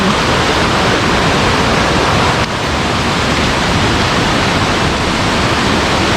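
Khlong Lan waterfall pours in a dense, unbroken roar of falling water, loud and close, steady throughout with no voices.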